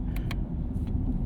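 A 2023 Chevrolet Camaro SS 1LE with the LT1 V8 and six-speed manual gives a steady, deep, rumbling engine drone at around 2,500 RPM during a brief stretch of driving.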